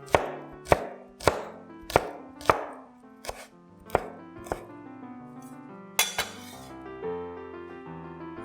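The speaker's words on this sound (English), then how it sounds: "Next, cut and deseed a chilli." A knife chops a chilli on a board in quick, evenly spaced strokes that ring slightly, about a dozen crisp hits at close range, slowing toward the end and followed by a light clink.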